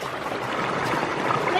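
River water on an Eaton Canyon hike rushes steadily as a broadband wash, close and continuous, with no pauses.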